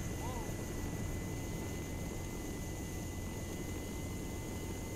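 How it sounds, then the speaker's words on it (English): A helicopter spooling up in the video game Arma 3 gives a steady, droning engine whine with sustained high tones. The sound holds at an even level under a dense mix of background noise. "I can see helos below us and one of them starting to spool up."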